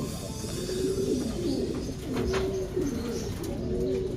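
Soft, repeated low cooing of pigeons, several rolling coos in a loose rhythm over a steady background murmur, fairly close.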